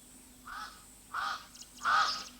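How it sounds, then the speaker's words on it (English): Crows caw three times in succession, harsh and moderately loud, each call a little stronger than the last, over a quiet background. "crows, one of the many threats to ostrich chicks."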